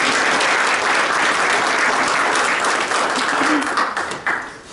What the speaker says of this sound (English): So let's give Lee a round of applause.